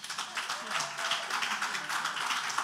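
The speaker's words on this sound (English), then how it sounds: "A big round of applause for him" Applause from an audience at an excellence awards ceremony greets an award recipient, steady mid-level clapping sustained throughout with individual claps audible in the mix.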